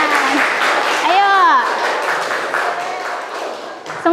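Classroom applause for a student group called to the front, clapping under a teacher's loud nearby voice, with a brief whistle-like tone in the middle and a sharper burst of claps at the end.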